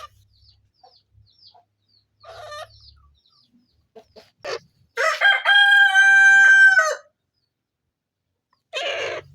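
Hens at a village homestead being given eye-drop vaccinations, with scattered soft clucks building into a loud, drawn-out squawking call from one bird, then a final short burst of clucking.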